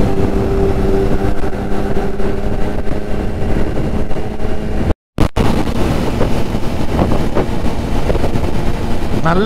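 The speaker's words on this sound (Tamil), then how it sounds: "நல்ல காத்து அடிச்சுட்டே தான் இருக்கு எதிர்காத்து" Strong headwind roaring over a Triumph Street Triple motorcycle while riding, a loud continuous buffeting rush broken by a brief dropout midway.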